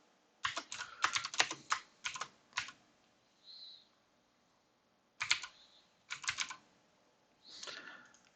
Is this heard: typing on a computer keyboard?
yes